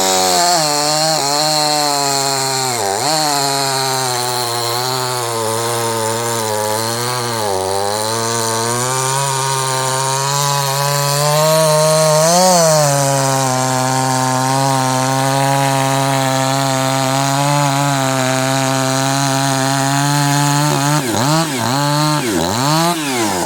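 A Husqvarna 350/346xp hybrid chainsaw with a ported pipe runs steadily near and loud, with a high buzzing drone and a few quick revs that dip and rise.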